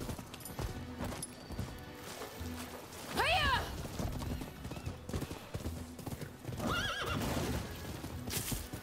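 Horse neighs twice, loud and close, over steady hoof clip-clop and game ambience in Rise of the Ronin, the second whinny rising about three seconds after the first.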